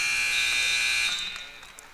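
A sustained electronic buzzer sounds at a basketball tournament game to end the first half, steady and loud for about a second before tapering off over crowd noise.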